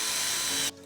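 A power drill running at full speed bores slowly through layers of cardboard, giving a bright, close whirring and grinding that stops abruptly near the end.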